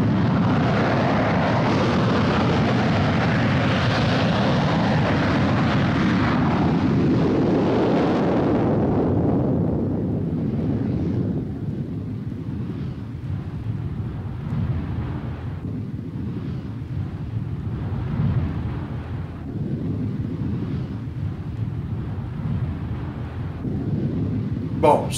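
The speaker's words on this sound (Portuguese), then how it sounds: "Mais MiG-23MF decolando." MiG-23MF fighter jets taking off from a highway: a loud, broad jet roar builds and then fades into a lower rumbling wash, with a voice speaking faintly underneath.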